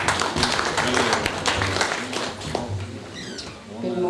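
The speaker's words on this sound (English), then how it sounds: "Okay, give a hand of applause." An audience at a poultry farmers' day applauds with scattered clapping, while a voice carries on and birds chirp faintly in the background.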